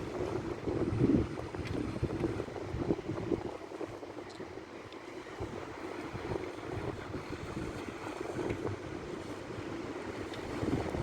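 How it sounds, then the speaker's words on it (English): Low engine rumble of a passenger boat moving over water in Bristol, with steady wind buffeting and splashing throughout, no voices. "It's not a ferry, it's a passenger boat."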